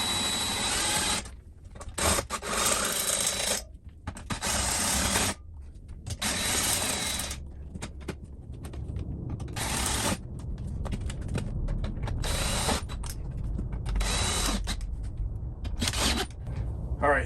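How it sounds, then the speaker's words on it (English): A socket tool works bolts on an RV rooftop AC unit on a Grand Design Solitude 382WB-R, loud close bursts of rasping, ratcheting turns separated by short pauses, no talking. "Grab our socket."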